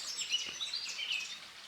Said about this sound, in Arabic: في عركه بتحصل فوق في قبيله العصافير